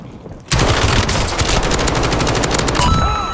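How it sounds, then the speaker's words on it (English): Rapid, sustained automatic gunfire in an indoor video game gunfight, with Kilo and C9 weapons. It bursts in loudly after a brief quiet start and keeps up as dense, close, continuous shooting. "They keep pushing indoor gunfights."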